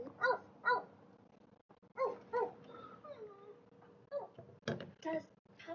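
A puppy letting out short barks and yips in pairs, then a string of thin whimpers and a few sharper yaps, close by and fairly quiet with brief silences between.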